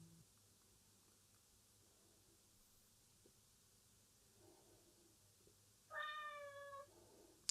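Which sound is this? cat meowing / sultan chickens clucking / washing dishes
cat meowing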